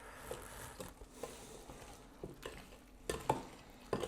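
Cornbread batter with a broken-up egg gets stirred in a bowl, soft irregular scraping and dabbing strokes, close and quiet, ending in a few sharper clacks of the utensil against the bowl.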